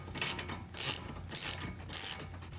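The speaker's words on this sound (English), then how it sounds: "I'm just gonna go ahead and get my ratchet and socket and take that right off" A ratchet and socket turn a 17 mm castle nut off a steering knuckle, giving four loud, close, evenly spaced bursts of rapid clicking with short quiet gaps between them.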